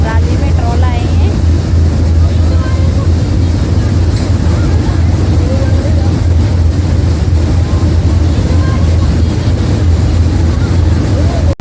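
A combine harvester runs in a rice paddy during the paddy harvest, its engine a loud, unbroken low rumble close by with wind buffeting, while faint voices sit under the machine noise.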